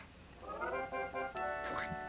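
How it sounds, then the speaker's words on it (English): Short sound effect from the Earthbound video game as the character steps on a slug, a quick warbling chirp with a brief squelchy burst over faint game background, about two seconds long. "It's the sound of you stepping on that slug."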